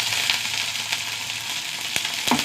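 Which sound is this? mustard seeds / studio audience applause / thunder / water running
mustard seeds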